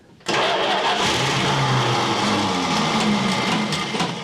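A 1970 Dodge Charger that sat for 20 years, with its carburetor choked, cranks briefly and then catches, settling into a loud, steady roar that holds close up.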